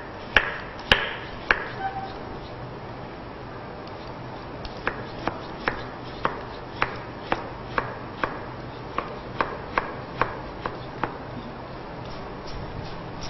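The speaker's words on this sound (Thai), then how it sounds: "ถ้าขูดไม่ได้เราก็จะมาหั่นเป็นเส้นบางๆใส่ลงไปได้นะคะ" A knife chops daikon radish on a cutting board into thin strips, a steady run of crisp, evenly spaced taps after a few louder opening chops, close and clear with no talking.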